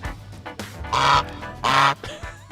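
Two loud goose honks sound as a comic effect, each a short nasal blast, spaced about half a second apart, with nothing else around them.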